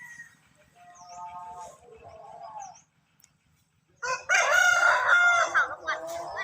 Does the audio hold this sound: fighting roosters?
yes